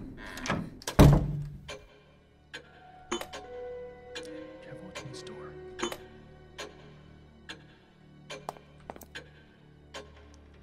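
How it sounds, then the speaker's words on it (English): A ticking clock in the indie horror game Maiden, sharp regular ticks over a low musical drone, after a heavy thunk of a knock at the start. "The RE2 music and the ticking clock."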